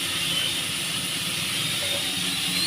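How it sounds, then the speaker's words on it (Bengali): Prawns sizzling in hot oil in a pan, with a splash of hilsa fish oil, for a yam and prawn curry: a steady, loud, continuous frying hiss that holds evenly throughout, with no voices. "মাছ কটা দিয়ে ভালো করে ভেজে নেব।"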